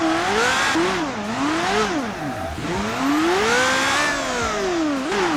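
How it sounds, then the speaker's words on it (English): A V8 SBR4 car engine in BeamNG Drive revs hard in a parking lot, its pitch rising and falling in repeated sweeps, loud and close with no talking. "I love driving these V8 SBR4s though"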